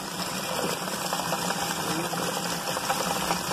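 A Gold Cube bucket trommel runs steadily while processing a small shovelful of dirt, giving a continuous mechanical rattle and engine-like drone at even loudness throughout, with no talking.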